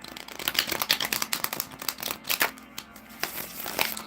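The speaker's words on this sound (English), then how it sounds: "One more butterfly shuffle." A butterfly shuffle of a deck of playing cards, crisp riffling bursts and soft card slaps in quick irregular clusters, close and fairly loud with no talking.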